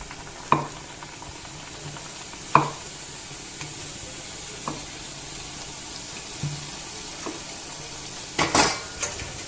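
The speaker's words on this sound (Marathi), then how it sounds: "तेल माझं छान असं तापलेलं आहे तूप, आणि त्या पुऱ्या मी आता तापट बनवून" Besan puris frying in hot ghee give a steady low sizzle, broken by several sharp metallic clinks of a utensil against the pan and a brief burst of clatter near the end, with no talk.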